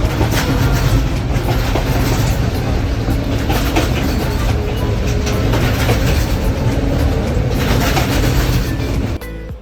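A passenger train runs along the coast to Hikkaduwa on an early-morning service. The ride gives a loud, steady rumble with rattling carriage noise that continues unbroken, and nobody speaks.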